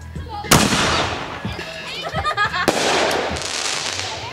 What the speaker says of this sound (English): That's a real firework.